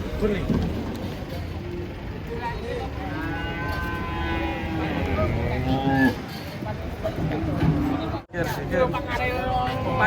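A large cow moos repeatedly just after being unloaded from a truck, long drawn-out bellows rising and falling, heard near over steady background crowd chatter and people talking.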